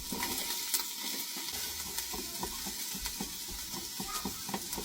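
Onions fry in a pan for a beef in red wine gravy, with a continuous close sizzle broken by small pops and crackles as they are stirred, and no voices.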